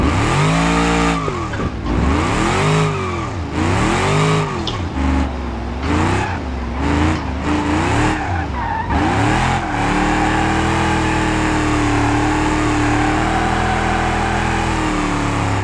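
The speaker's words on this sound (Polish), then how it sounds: "te auto samo driftuje, nawet nie muszą dodawać gazu, one będą driftować" A car in a driving video game drifts on a slippery surface with repeated loud tire squeals and rising, falling engine revs in waves, then settles into a sustained engine drone.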